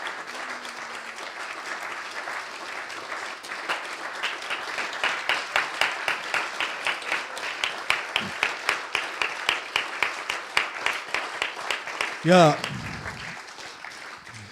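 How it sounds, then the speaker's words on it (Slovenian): A theatre audience applauds as actor Boris Cavazza takes the stage to receive the Bert award, steady clapping swelling into a loud, rhythmic ovation before a single voice speaks at the very end. "prosim en lep aplavz"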